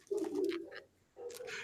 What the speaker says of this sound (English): Bird's just being a jerk